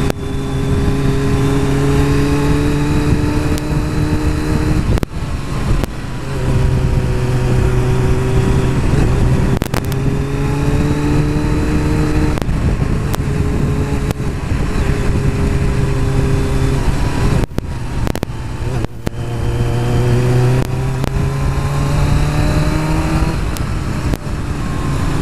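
Kawasaki Ninja ZX7R motorcycle engine running steadily on a city ring road, a continuous loud drone with rising and falling pitch as it accelerates and shifts, no voices.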